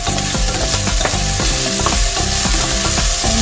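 Sliced onion frying in hot oil in a pan for pork adobo with coconut milk, a loud continuous sizzle with repeated scraping and clattering from stirring, close and without any voices.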